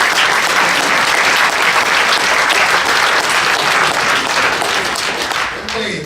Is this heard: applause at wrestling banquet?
yes